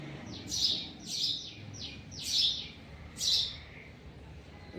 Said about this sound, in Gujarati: બધી ચકલી છે